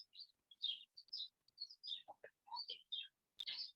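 Chickadees at a feeder give quick, bright chirps and short call notes in a rapid string, close and clear against a quiet background.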